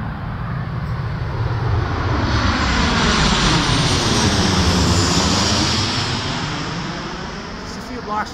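A jet airliner passes low overhead near the south end of SeaTac airport, a loud broadband roar swelling to a peak midway and then slowly fading, continuous and close, drowning out everything else.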